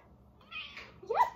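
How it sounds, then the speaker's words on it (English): Pet cat meowing close by, a short rising two-part meow at the end of a brief quiet moment. "This is my cat, Puck."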